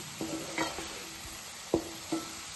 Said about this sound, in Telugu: ఇప్పుడు మనం కలుపుకుందాం. ఈ మసాలాలో మనం 2 నిమిషాలు వేపుకోవాలి.